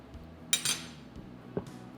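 Knife and fork scraping and clinking against a plate while cutting a tough piece of meat in soy and sesame jus, with two brief clustered clinks and a later soft tap, close and fairly quiet.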